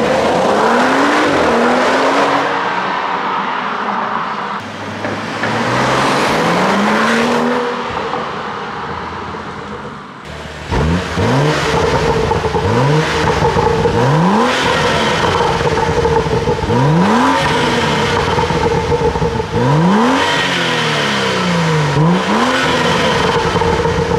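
A BMW N55 engine on stage 2 tuning, with an Akrapovic exhaust and HJS downpipe, revs up repeatedly, close and loud. Rising engine sweeps alternate with crackling exhaust burbles on the overrun in a steady cycle.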